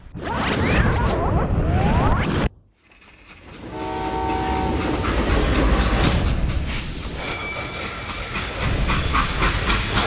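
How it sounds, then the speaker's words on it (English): A steam train in Call of Juarez: Gunslinger rumbles and hisses along the rails, with a brief drop before the noise swells again, a whistle sounding, and a steady heavy clatter continuing. "how'd they stop this train in the first place?"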